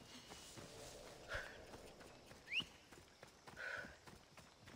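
Faint, steady hoofbeats of a horse in the video game Assassin's Creed Odyssey clip-clop at a walking pace, with a few thin tonal chirps over a low background.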